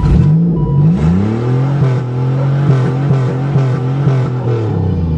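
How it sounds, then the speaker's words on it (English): A Pontiac Trans Sport with a 3.8 engine is held against its rev limiter, a loud, close, sustained high-rpm roar that cuts out and surges back in a quick, regular stutter, with no voices. "Well, it's got a rev limiter too."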